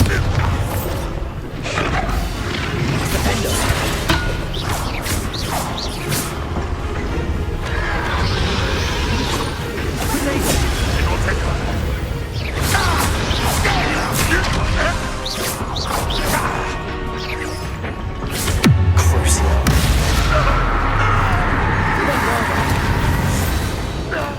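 A Bombarda spell explodes in the Hogwarts Legacy video game: loud, close booms and crashes with whooshing bursts and debris clatter over a busy battle soundscape, ending with a heavy low thud.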